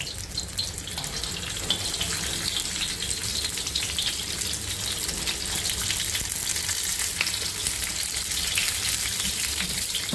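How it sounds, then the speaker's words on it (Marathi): Continuous loud sizzling of bitter gourd frying on a hot iron griddle, a dense steady crackle with no speech. "लोखंडी तव्यावर चांगले पदार्थ होतात आणि आपल्याला हे फ्राय करायचे आहे।"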